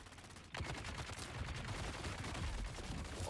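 Gunfire from the desert survival game Dune: Awakening rattles on after a sudden start: a dense, continuous stream of rapid shots, fairly quiet overall, with no voices.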